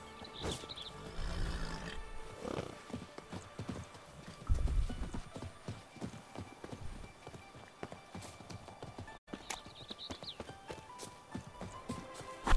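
Rhythmic clip-clop of a horse's hooves in The Witcher 3, with a couple of neighs and whinnies, moderately near, alongside snorts and game ambience; no talk.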